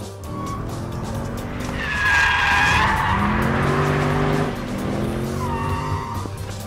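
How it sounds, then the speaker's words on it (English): A Mercedes-AMG drifts in second gear, its tires squealing loudly and continuously over the engine roar. The squeal swells through the middle of the slide and then eases off, with no talking. "I'm going to go in and initiate a slide in second gear."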